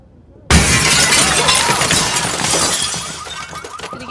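Glass shatters in a horror film scene: silence broken by a sudden loud crash, followed by a long spray of tinkling shards that slowly fades, with a voice faintly present.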